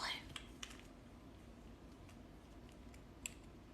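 Someone types out a note on a computer keyboard, faint scattered key clicks over a quiet background hum.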